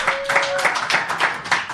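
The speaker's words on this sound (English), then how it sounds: "Who's been to Joshua Tree Contact in the Desert? Okay. Again, applause." An audience at a live show in a theater applauds with loose, uneven clapping, many hands close by in quick irregular bursts, with a brief tonal hum under the start.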